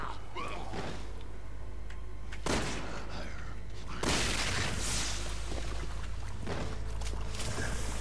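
Gunfire in the video game Resident Evil 6: two sharp, loud blasts a couple of seconds apart, each followed by a burst of dense rumbling noise, over a low steady hum.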